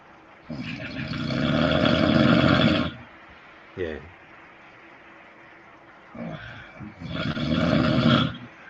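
Loud snoring from a sleeper lying on their back, two long rasping breaths several seconds each separated by a short quieter snort, close and dominating the room.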